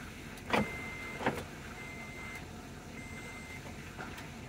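Power window motor in a first-generation Toyota Tundra door running in a few short bursts, a thin steady whine with sharp clicks of the switch between runs, close by and fairly quiet.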